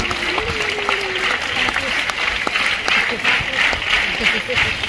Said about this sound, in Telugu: మీ అందరి చప్పట్లో